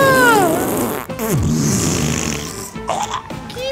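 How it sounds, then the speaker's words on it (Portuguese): A cartoonish fart in GTA 5, long and wobbling with a falling pitch, followed by shorter sputtering bursts, loud and close with no talk over it. "Que peido horrendo!"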